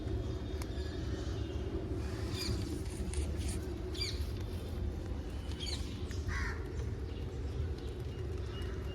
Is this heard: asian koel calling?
yes